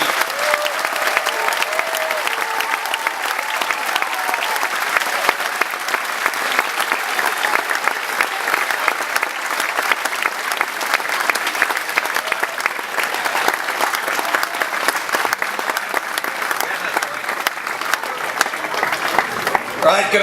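A large crowd at a school speech event claps for arriving guest Sir Trevor Brooking, a dense, sustained round of applause that holds steady at full strength throughout.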